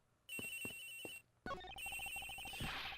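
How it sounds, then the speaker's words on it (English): A cell phone rings from inside a locker in the video game Ace Attorney Investigations: Miles Edgeworth, a clear electronic ringtone in two bursts, a short trilling phrase, a brief pause, then a busier melodic ring, with no talking. "The ringing's coming from in here"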